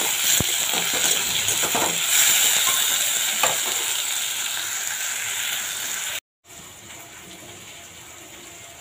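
A spoon scraping and stirring chilli mash in a hot pan, steady sizzling and frying hiss with scattered light clinks, close and fairly loud, briefly cut off near the end.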